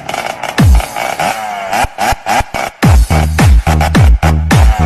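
A motorcycle engine revs in a series of sharp, loud bursts, each climbing and dropping quickly with pauses between, close to the listener.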